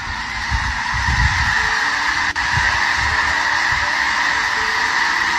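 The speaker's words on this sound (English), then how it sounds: "a video of a bird tsunami of epic proportions" A huge flock of geese honks in a dense, continuous clamor, layered calls filling the air along with a low fluttering rumble of wings, loud and close throughout.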